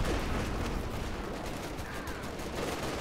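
Video-game artillery barrage called in by a Pershing tank, a dense, continuous rumble of overlapping blasts and crackling impacts that stays loud and unbroken for a few seconds.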